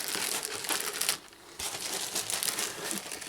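Thin plastic bag crinkling and rustling close up while a life-size Sideshow figure of The Child is unboxed, continuous crackling with a brief quieter gap midway.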